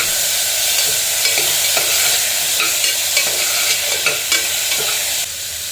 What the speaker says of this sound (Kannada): ಕುಂದು ನೀರಲ್ಲಿ ಇಟ್ಕೊಂಡಿರೋ ಬದನೆಕಾಯಿ ಹಾಕ್ತಿದ್ದೀನಿ